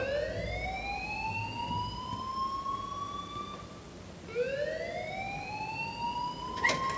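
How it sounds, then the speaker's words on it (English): An alarm wails in the video game Life is Strange, two rising and falling electronic siren sweeps with a pause between them, moderately loud over a low background. "please turn off that alarm since that's your job"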